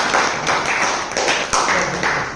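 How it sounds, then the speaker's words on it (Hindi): Clapping during a chemistry lesson, with a handful of sharp claps in a steady, fairly close rhythm over a few seconds. "ताली बनती है, बजा दो।"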